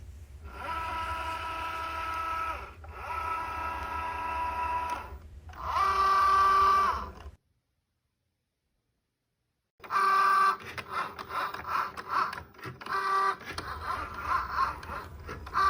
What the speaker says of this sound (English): This is the Cricut Joy machine, the one that I use to cut all my decals for all of my projects.